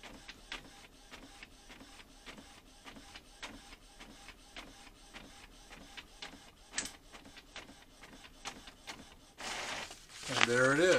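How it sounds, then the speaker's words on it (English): A printer runs a job sent from an Amazon Fire 8 tablet, its mechanism ticking in a steady rapid rhythm of clicks and whirs, ending in a louder burst of rolling feed noise. "It's printing."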